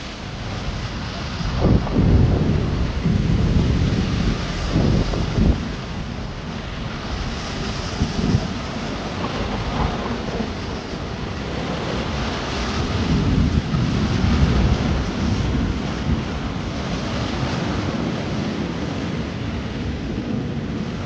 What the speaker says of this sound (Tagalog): Nakapasok na yung tubig sa lakas ng alon